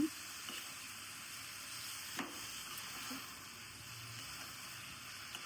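Brinjal and dry prawns curry sizzles and simmers in a pan, with a steady low hiss and a few faint stirring clinks, quiet and alone.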